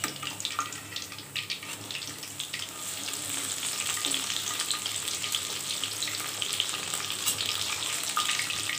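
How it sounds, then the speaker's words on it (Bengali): Chicken pakoras fry in hot oil with a dense, steady crackling sizzle, close and continuous, with a few brief stirring and turning knocks early on as the pieces are flipped. "পাকোড়াগুলোকে আমি এখন উল্টিয়ে দিব।"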